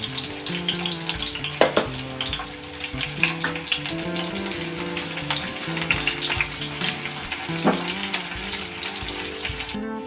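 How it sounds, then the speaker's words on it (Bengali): Onions frying in hot oil in a pan until they turn reddish, a steady close sizzle throughout with occasional stirring and brief splashy water sounds, no voices. "পেঁয়াজগুলো লাল লাল করে ভাজবো।"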